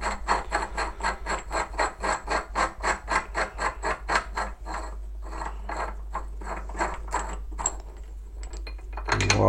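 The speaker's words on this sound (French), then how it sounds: "vous prenez votre pince et vous desserrez le cul du piston" Pliers loosen the end of a hand pump piston held in a vise, producing a steady series of rapid ratcheting clicks up close. The clicks slow and thin out toward the end and close with a brief scrape.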